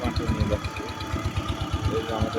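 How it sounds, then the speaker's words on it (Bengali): A sea boat's engine chugs in a steady low rhythmic thump, close and continuous, with a voice speaking over it. "সামুদ্রিক নৌকা যাচ্ছে"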